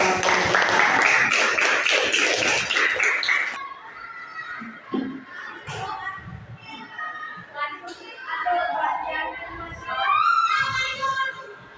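Students in a classroom breaking into a burst of clapping that lasts a few seconds and then stops, followed by quieter talk and children's voices.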